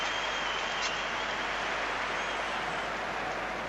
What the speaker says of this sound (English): a big cheer for Denilson as he comes on.